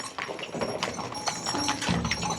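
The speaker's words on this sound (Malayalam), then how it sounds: "കാളകൾക്ക് കുറച്ച് സ്പീഡ് കൂടിയേ വീടെത്താറായതുകൊണ്ടാണെന്ന് തോന്നുന്നു" Bullocks' hooves clip-clop along a village road in rural Karnataka, a brisk uneven run of close hoof knocks over light outdoor background.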